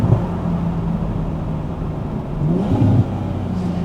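A Toyota GR Supra with a titanium exhaust and ArmaSpeed intake drives at night, its engine a steady low drone from inside the cabin that swells briefly in a rev near the end.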